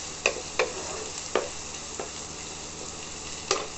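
Onion frying in a pan for a jackfruit-seed mash, a steady sizzle broken by a few sharp utensil taps as it is stirred.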